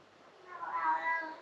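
A domestic cat meows once, close by and fairly soft: a drawn-out, rising and falling cry lasting about a second, heard indoors in a quiet room.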